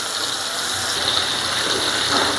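Water splashes onto river bele fish frying with turmeric and chili spices, giving a continuous loud hissing sizzle that holds steady throughout, with no talking.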